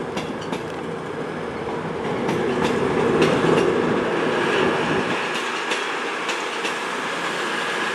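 A CrossCountry Class 221 unit, 221126, running the 1325 service to Edinburgh rolls into Plymouth station with a steady rumble of wheels and rail clatter, rising slightly as it nears, with brief squeal-like tones.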